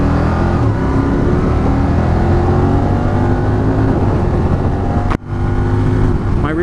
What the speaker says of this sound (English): it's a 1000cc V-twin engine that's got plenty of torque